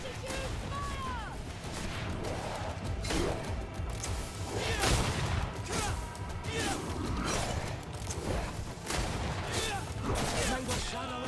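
Volley after volley of gunfire in the GreedFall battle, sharp repeated blasts with clattering impacts over a busy din, recurring every second or so, with voices shouting through the fighting.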